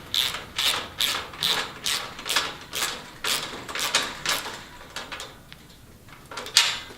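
Plastic hay ring cover hoop being twisted and snugged into its slot, giving a run of repeated ratcheting clicks and rubbing scrapes at close range with no talk.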